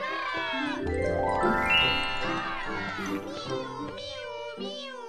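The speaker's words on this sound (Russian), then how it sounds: "так вот покричали котята" Cartoon kittens in the Three Cats kids' game meow in high, bouncy, sing-song voices, several meows in quick succession over a bright jingling musical backing, close and clear.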